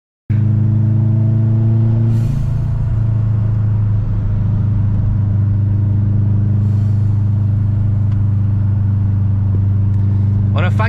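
Subaru car engine heard from inside while driving, a loud, steady low drone with a brief shift near two seconds, continuous throughout with no talk.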